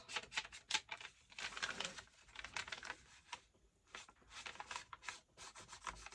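Paper project being distressed by hand, a repeated dry rubbing and scraping in short bursts at close range, with no talking.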